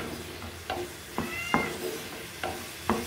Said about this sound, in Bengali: আমার বাসায় অনেকগুলো পুশিকান পাই, তো ওদের শব্দ শোনা যাচ্ছে, ওদের সাউন্ড।